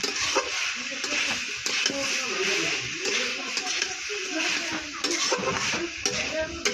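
Pumpkin leaves being sautéed in a pan, with a steady close sizzle and repeated scraping stirs of a spatula throughout, plus faint background voices.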